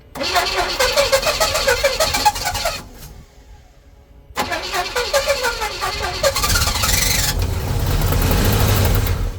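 A 1977 Pontiac Formula Firebird engine, parked since 2007, cranks with a rapid rhythmic churning, pauses briefly, cranks again, then catches and settles into a loud rough, smoky idle, close by.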